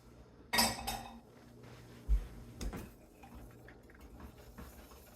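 Dishes and utensils clink and clatter into a kitchen sink in a few sharp knocks, a bright clash first, then a dull thud and lighter taps, fairly quiet with no talk.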